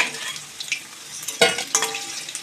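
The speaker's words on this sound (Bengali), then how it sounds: "বাকি মাংসগুলোকেও পকোড়া ভেজে নেব" Chicken pakoras deep-frying in hot oil for hotel-style chilli chicken give a faint, steady sizzle, broken by a couple of sharp stirring clatters midway.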